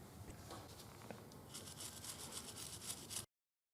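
Old liquid gasket compound is scraped and rubbed off the alternator cover perimeter of a Ducati motorcycle engine case, giving close, quiet scratchy strokes that grow denser and brighter toward the end.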